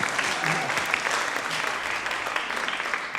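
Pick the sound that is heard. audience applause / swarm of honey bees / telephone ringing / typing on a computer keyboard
audience applause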